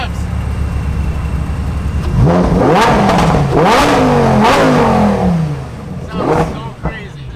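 Lamborghini Huracan STO engine revved on a city street in Miami, several sharp rising and falling revs climbing over a loud idle, close and dominant, with chatter around it.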